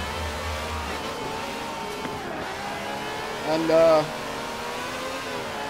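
Race car engines in Forza Horizon 4 drone steadily through a noisy car class race, with a brief louder rev or pass near the end, while someone talks over the game sound.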